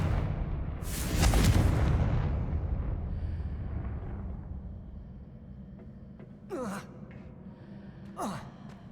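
A Confringo spell explosion in the video game Hogwarts Legacy, a rumbling burst that swells and fades over a few seconds, followed by two brief whooshing effects, moderately loud.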